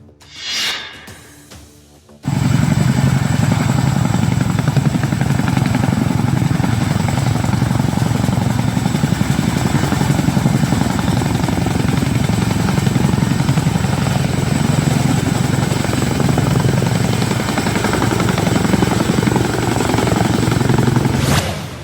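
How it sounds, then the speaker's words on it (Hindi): A Chinook helicopter flies from Dehradun toward Harsil carrying relief supplies. After a brief quieter opening, its loud, continuous rotor thrum and engine roar fill the rest, steady and close. "हर्षिल के लिए देहरादून से उड़ान भरता चिनूक हेलीकॉप्टर लोगों की जिंदगी बचाने का सामान लेकर जा रहा है।"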